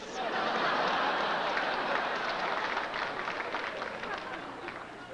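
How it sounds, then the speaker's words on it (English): Audience applause at a stand-up comedy show, a steady broad wash of clapping that holds at an even level for several seconds before easing slightly. "Applause for sleep"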